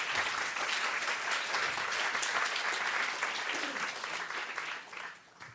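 Audience applause for a panel at a talk on gender violence and Title IX, a dense, steady clapping across the whole stretch that thins out and fades near the end.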